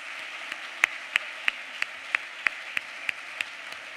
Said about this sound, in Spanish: vamos a aprovechar para dar un aplauso